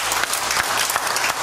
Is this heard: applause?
yes